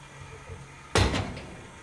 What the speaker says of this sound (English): It just popped off the bus right there.